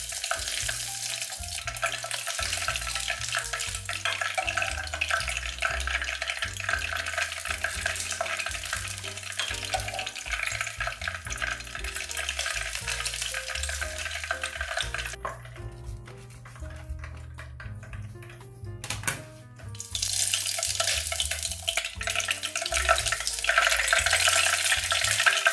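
Hot oil poured over the scales of a bloodlet tilefish (amadai) crackles into a loud, dense sizzle that runs steadily, dips briefly near the middle and then surges again, close up with no talk.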